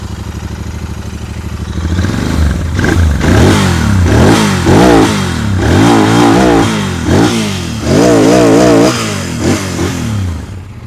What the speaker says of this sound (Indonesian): dengerin dulu deh langsung ya suara knalpotnya.